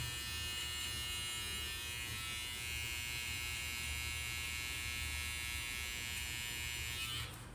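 Electric hair trimmer buzzes steadily and close by during detail work, a constant bright hum that holds unbroken for several seconds before cutting off near the end, with no speech.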